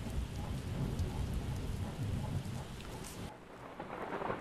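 Heavy rain pours down during a thunderstorm with rumbling thunder, a dense, steady roar that drops abruptly to a lighter patter near the end.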